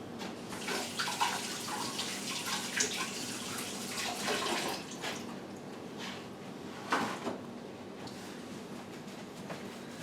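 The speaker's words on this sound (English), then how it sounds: "Wash my hands and we'll get in the berries." Running tap water while hands are washed, a steady broadband rushing stream that carries on throughout, close and moderately loud.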